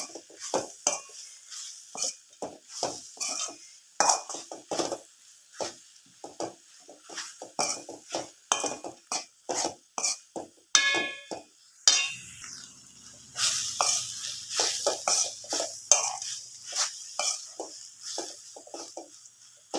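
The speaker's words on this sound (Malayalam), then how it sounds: "ഇനി നല്ലതുപോലെ എല്ലാം കൂടെ നമുക്ക് മിക്സ് ചെയ്ത് കൊടുക്കാം" A spatula stirs chicken masala with curry leaves in a pan, a close, steady series of rhythmic scraping strokes with light clinks against the metal and a faint sizzle beneath, no talk.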